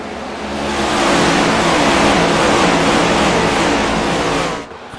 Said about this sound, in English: Listen to the engines roar as they enter the Geico restart zone